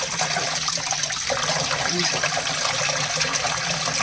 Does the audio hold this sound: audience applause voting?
no